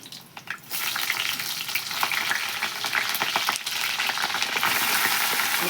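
Green chillies spit and crackle in hot oil with mustard and fenugreek seeds, a loud, steady sizzle that jumps up after a brief quieter start and keeps going with small pops, no voices.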